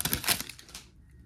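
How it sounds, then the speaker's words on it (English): Quick crisp riffling clicks of basketball trading cards being shuffled for about a second, then it goes quiet. "Let's shuffle a bit."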